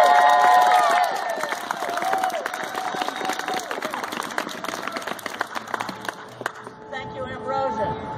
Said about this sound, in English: Give a warm welcome and a big round of applause for Reverend Lynn Hopkins.